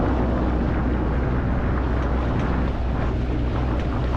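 Sailboat engine running hard at 2500 rpm while leaving a channel: a loud, steady low droning roar mixed with water and wind rush, continuous and close throughout.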